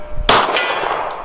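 A pistol round from a Walther PDP Compact strikes a steel gong target outdoors, giving one sharp, loud clang that rings on and fades.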